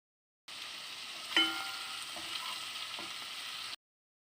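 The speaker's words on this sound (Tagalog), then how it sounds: "the garlic is already brown, so you just put the tomato until the tomato all becomes smashed or small pieces" Tomato sizzling in a pan of oil with garlic already browned, a steady soft frying hiss with a few faint clicks of stirring, alone and quiet.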